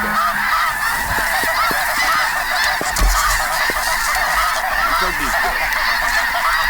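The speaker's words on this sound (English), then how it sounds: "we got birds coming from the right" Geese honking continuously as waterfowl fly in during a hunt, a dense overlapping chorus of calls with a few sharp clicks, steady and fairly loud throughout, no talk.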